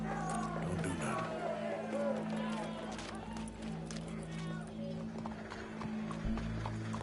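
Horse hooves clip-clopping in the video game Red Dead Redemption 2, a steady quick rhythm under game dialogue, music and background noise.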